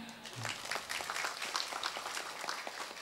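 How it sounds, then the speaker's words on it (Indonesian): An audience at a religious lecture claps during the sermon, a short, fairly quiet patter of scattered hand claps in a room, with a faint voice beneath. "Ini tepuk tangan ini"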